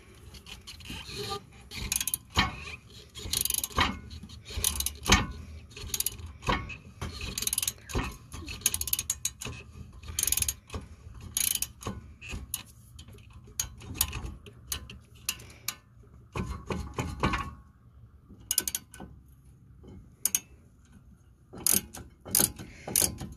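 Ratcheting and metal scraping while rear brake caliper bracket bolts are removed on a 2016 Ford Fusion, rapid irregular clicks and clatters in dense bursts with brief pauses, close and steady.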